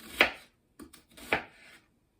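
A knife roughly chopping an onion on a cutting board, two sharp strikes with a smaller cut between them, close and dry, with no talking.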